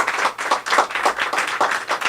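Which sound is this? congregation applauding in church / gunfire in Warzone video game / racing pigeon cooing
congregation applauding in church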